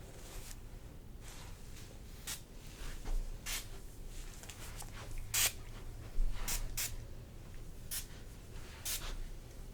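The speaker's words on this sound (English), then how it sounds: "I'm gonna spray it in and I'll just work it into your hair" A spray bottle spritzes light oil onto hair again and again, a series of short sharp hisses spaced a second or so apart, close and quiet.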